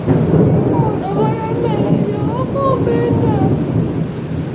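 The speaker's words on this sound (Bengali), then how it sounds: "সেই বৃষ্টি এমন হয়েছে 1 ঘন্টা হচ্ছে" A dense, steady roar of heavy rain in a thunderstorm with lightning, a low rumbling undertone, and faint voices drifting beneath the downpour.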